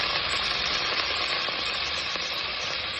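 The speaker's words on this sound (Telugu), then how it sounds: "ఒక స్పూన్ ఆఫ్ ఆయిల్ వేసుకొని ఈ పచ్చిమిరపకాయలని బాగా చక్కగా" Green chillies fry in a spoonful of oil, giving a steady, close, bright sizzle that holds evenly throughout without pause or talk.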